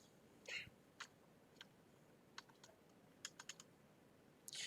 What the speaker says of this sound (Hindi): कुछ कंटेंट और भी टाइप करता हूँ यहाँ पे.